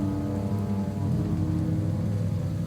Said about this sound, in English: The problem with a swamp realm like this is that the acid rain does a number on your health bar.